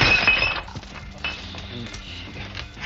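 Glasses clink together in a toast at an evening gathering, with a bright, brief clink at the start followed by faint clattering and rustling.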